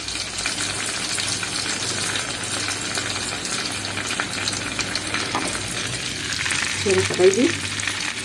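Butter and flour for a béchamel fry in a pan, a loud continuous sizzle with stirring and spoon clinks, and a voice talks briefly near the end.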